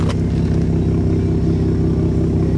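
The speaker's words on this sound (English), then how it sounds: "I guess first we better listen to this exhaust. I'm gonna put it in Baja because it's the loudest." A 2025 Ford F-150 Raptor's turbocharged V6 in Baja mode idles and revs with a steady, loud low rumble throughout, close by with no talking.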